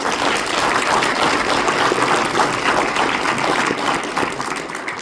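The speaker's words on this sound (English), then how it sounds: "Give them a round of applause." A town hall audience gives a sustained round of applause for NCOs, dense steady clapping from many hands filling the room for several seconds, loud and unbroken with no talk over it.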